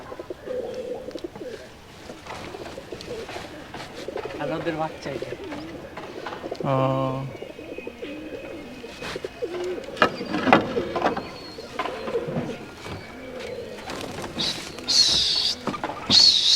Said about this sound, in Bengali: এই যে কবুতর সব কবুতর পুরা আকাশ ভরে গেছে